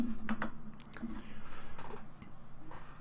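Computer keyboard keys clatter in short bursts of clicks during an online game match, set against a steady background hum and some quiet talk.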